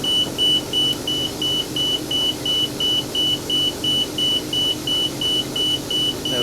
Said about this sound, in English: By releasing that, it'll sound an alarm to wake me up to let me know that I've taken my foot off.